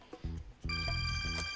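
Telephone ringing in a quiet room, a repeating electronic ring with bright, sustained tones that sounds much like a doorbell, heard in short bursts close by with no talking.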